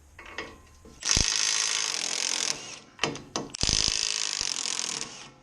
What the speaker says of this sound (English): Next, I'm going to remove the 2 lower shock bolts.